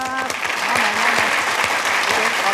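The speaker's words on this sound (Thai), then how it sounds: "ขอเสียงปรบมือ" A studio audience on a Thai code-breaking game show claps loudly and steadily, with a host's voice speaking over the continuous applause.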